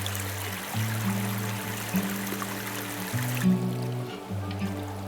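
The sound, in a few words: cold clear mountain river flowing in Lydford Gorge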